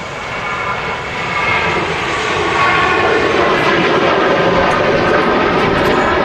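An aircraft at a windy Manchester Airport gives a loud, steady engine roar that swells over the first few seconds and then holds, mixed with gusty wind noise and no talk.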